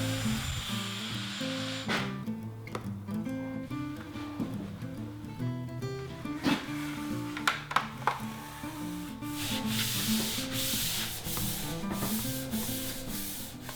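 Continuous close-up rubbing and scraping of sanding along the edges of an aluminum sheet metal cocktail table cabinet, steady strokes with occasional knocks, accompanied by background music throughout.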